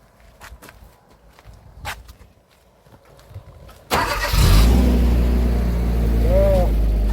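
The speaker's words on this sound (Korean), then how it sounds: "자, 시동을 걸고" An orchard sprayer's engine is started in a peach orchard after rain. First come scattered footsteps and handling noises, then the engine catches suddenly and settles into a loud, steady, close running drone.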